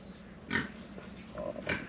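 Pastured pigs gathered at a raised trailer gate, giving a few short grunts and snuffling noises in two brief bursts over low background rustle.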